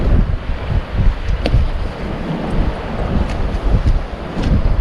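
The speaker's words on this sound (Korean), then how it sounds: "이거 내가 볼 때 태풍인데. 예, 태풍입니다." Strong typhoon wind on the coast of Jeju Island during fishing, a loud continuous roar and buffeting against the microphone with rushing surf beneath it, no talking.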